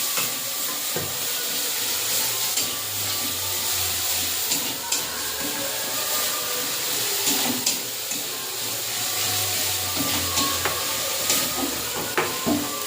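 Spice paste cooking down in a pan with salt and a little water, giving a steady close hiss and bubbling sizzle with occasional faint clinks, continuous throughout.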